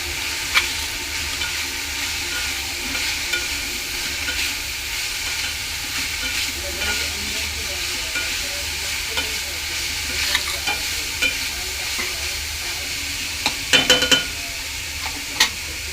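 Ridge gourd with turmeric, chilli powder and garam masala cooking in a pan, a continuous close sizzle with steady stirring and occasional spoon scrapes and knocks, no talk.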